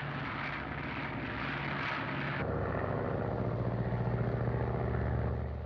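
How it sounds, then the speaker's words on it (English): A full-size airplane under radio control from a ground board drones steadily throughout, its engine hum shifting to a rougher, throbbing tone partway through. "The plane is now under radio control from the board here."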